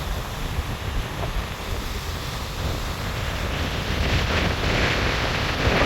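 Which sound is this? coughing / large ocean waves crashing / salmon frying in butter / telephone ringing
large ocean waves crashing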